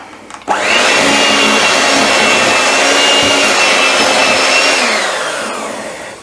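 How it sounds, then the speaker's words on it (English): An electric mixer whirs into vegan cake batter after an abrupt start, holding a loud, steady motor drone for about five seconds, then winding down at the end, close and alone. "So I'm just gonna start incorporating it first a little bit, and then I'm gonna mix it up"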